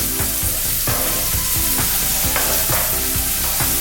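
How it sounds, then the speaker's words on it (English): Onions sweat in a hot pan with a dense, steady sizzle, broken by regular scraping strokes of a utensil stirring them, close and continuous throughout. "now we're sweating out the onions"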